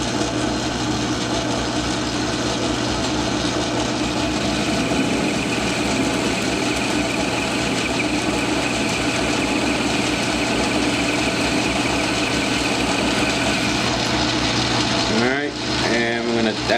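A small metal lathe cuts leaded steel with a negative geometry toolholder, a loud, continuous droning hum with steady mechanical vibration, ending with a brief burst of speech.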